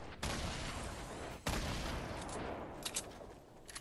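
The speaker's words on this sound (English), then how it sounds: "Oh, that's their shotgun." Enemy shotgun blasts in Fortnite: two loud, sharp booms about a second apart, followed by a rumbling tail and a few fainter distant shots.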